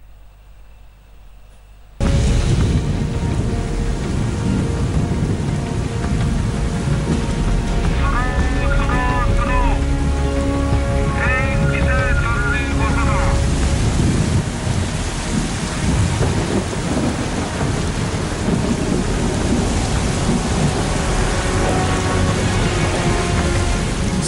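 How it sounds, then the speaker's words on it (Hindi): Heavy torrential rain and stormy winds of Super Cyclone Amphan lash the Digha coast in Bengal, a dense, loud, constant roar that starts abruptly and continues without letup, with a faint tonal sound briefly heard within it. "तूफानी हवाएं वहां पर चल रही है, मूसलाधार बारिश हो रही है"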